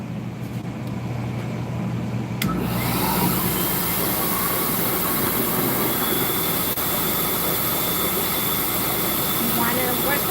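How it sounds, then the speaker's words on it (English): A large pet blow dryer starts with a click and roars into a loud, steady whooshing drone while drying a hamster's fur, following a brief quieter moment at the start. "I'm gonna start drying them with this big old vacuum looking thing"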